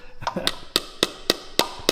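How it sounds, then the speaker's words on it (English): A small child's hammer tapping steadily on metal during work on an abandoned Ford F100 truck, about seven crisp, evenly spaced knocks at close range with no talk. "This is a child's hammer."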